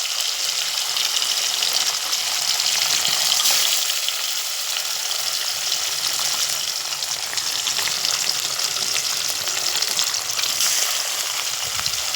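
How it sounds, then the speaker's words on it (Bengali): Fish seasoned with turmeric and salt frying in hot oil in a wok, a dense, continuous close sizzle and crackle at steady loudness throughout, with no one talking. "এখানে কড়ার মধ্যে তেল বসিয়ে দিয়েছি এবার মাছটাকে লাল লাল করে ভেজে নেব"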